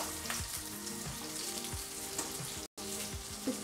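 Grated dry coconut roasting in a pan with white sesame and poppy seeds makes a steady, moderate sizzle with light stirring, briefly cutting out for a moment, with no voices.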